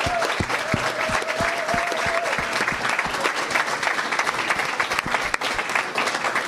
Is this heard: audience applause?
yes